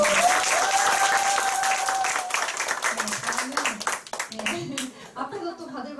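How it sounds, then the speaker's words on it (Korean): Loud applause from an audience at a group business meeting fills the room, then thins into scattered clapping. A voice comes in partway through and talks over the fading claps. "다시 한번 큰 박수 부탁드립니다"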